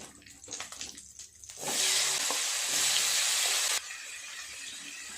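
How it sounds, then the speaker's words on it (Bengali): Cauliflower and potatoes go into hot oil, the quiet clatter of a pan giving way to a sudden loud, sustained sizzle that steadies, then drops to a softer fry. "ফুলকপি আর আলুগুলো এই তেলে আগে ভালো করে ভেজে তুলে নেব"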